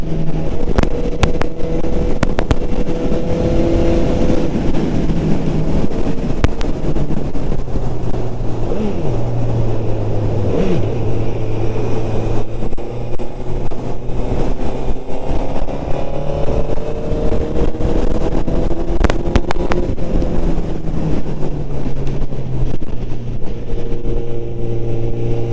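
A 2022 Honda CB 1000 R motorcycle fitted with an IX Race aftermarket exhaust, its engine droning and revving steadily through shifting pitches while riding, loud and close with intake noise, no talking.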